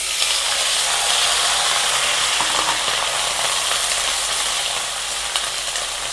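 Bottle gourd stems and potato fry in a pan with a loud, steady sizzling hiss, continuous and close, with faint scraping of stirring underneath.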